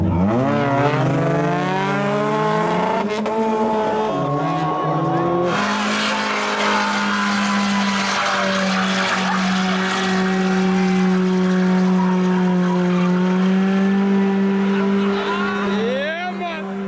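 A race car roars at a street drag strip at night in South Wales, its engine loud and close, revving with rising and falling pitch. Excited voices shout over the engine.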